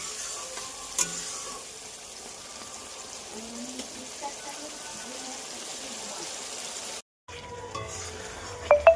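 Chicken curry masala frying in oil in a pan for a thin-gravy chicken dish, a continuous soft sizzle with occasional stirring scrapes and clinks, brief pause then louder clatter near the end.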